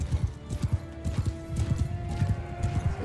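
Horse hooves pound in a fast gallop in the video game Mount and Blade II: Bannerlord, a rapid, close, rhythmic clip-clop that continues without a break.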